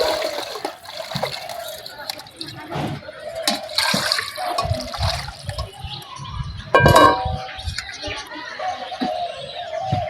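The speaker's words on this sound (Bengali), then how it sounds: "এবার পানি দিয়ে দেবো" Water is poured into a cooking pot for khichuri, splashing and gurgling in uneven bursts with a louder surge near the end, while a person talks over it.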